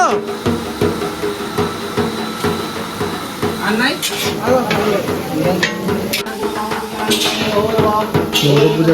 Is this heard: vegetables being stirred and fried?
yes